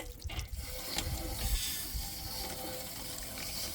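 Water rushing and gurgling through a Jayco caravan RV hot water system being flushed during anode replacement, a continuous close hiss and splash that holds steady throughout.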